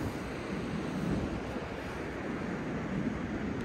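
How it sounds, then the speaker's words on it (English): Atlantic Ocean waves rolling onto a quiet beach on Merritt Island, a steady soft wash of surf blended with wind noise on the microphone, with no voices. "can see the Atlantic Ocean behind me here rolling in"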